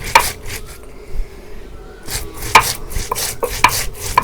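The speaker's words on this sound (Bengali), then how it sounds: "আর এই দেখো ছোট্ট শিল্পাটা আমি বাইডা নিতেছি" Cumin, coriander and radhuni seeds are ground by hand on a small shil-pata grinding stone, giving repeated rough scraping and rubbing strokes in an irregular rhythm, close and fairly loud, with a short pause midway.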